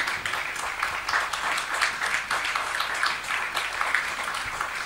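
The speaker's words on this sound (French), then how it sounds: "Je vous demande d'applaudir le grand maître international, Laurent Fressinet." An audience applauds a chess grandmaster at a French chess event, with steady, dense clapping that carries on throughout, fairly loud and close.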